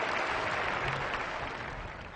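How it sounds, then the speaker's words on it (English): Applause from a large commencement audience at the University of Michigan, a dense steady wash of clapping that fills the whole stretch at high level and tapers slightly toward the end. "Let's cheer Lucy"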